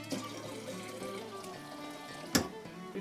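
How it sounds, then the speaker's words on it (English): Clean filtered water pours into a wine jug to top it off, a soft, steady trickle of liquid lasting a few seconds, fairly faint and close, with a brief louder splash near the end. "Top it off with clean, filtered water."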